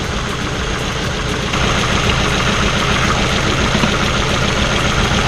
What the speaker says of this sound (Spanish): Ahora escuchen cómo va a cambiar el motor